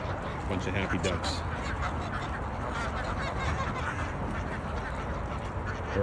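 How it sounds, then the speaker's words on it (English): A flock of ducks quacks continuously nearby, many overlapping calls forming a busy, steady chatter. "Bunch of happy ducks."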